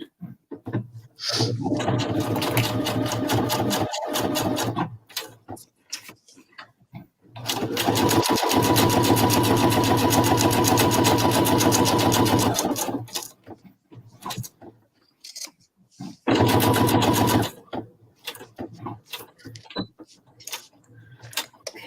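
A sewing machine runs in three bursts, stitching a zigzag along the bottom hem: a fast, even mechanical whirr with rhythmic needle ticking, close and loud, separated by pauses with handling clicks and brief speech.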